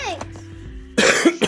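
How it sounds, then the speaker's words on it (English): A person coughs directly into a close microphone while playing a video game. There is one short, loud, rough burst with a throaty catch at the end, after a brief vocal sound. "Cough right in the microphone."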